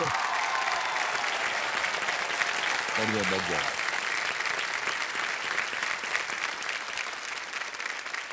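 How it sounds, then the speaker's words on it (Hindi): Studio audience at the KBC game show applauding loudly and continuously, a dense sustained wash of clapping with a brief spoken phrase over it partway through. "और इतनी ताली बज रही है जनता के पास।"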